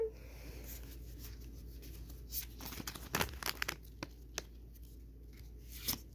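Pokemon Shining Fates booster pack foil being torn and crinkled open close up, a run of scattered tearing and rustling bursts, louder in the middle, over a quiet room hum.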